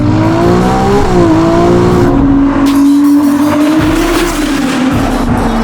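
A Novitec-tuned Ferrari 296 GTB with a 2.9-litre 120-degree twin-turbo V6 roars loudly up close, its exhaust note climbing and dipping through revs with a harsh, droning tone that stays forceful from start to finish.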